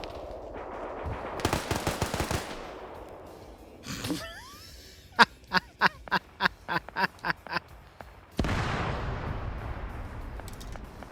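Machine gun fire from a UH-60 helicopter in a military video game: a short rattling burst, then a rapid run of about ten evenly spaced heavy shots, followed by a rumbling blast and lingering noise, with no talk.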